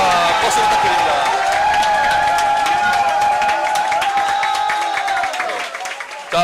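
Crowd at a youth committee launch rally for a political party cheers and claps continuously, loud and close, with a sustained tonal hum running beneath before it fades at the end.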